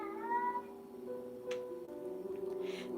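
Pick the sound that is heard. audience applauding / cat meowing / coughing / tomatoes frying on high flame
cat meowing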